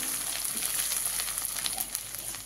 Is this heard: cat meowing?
no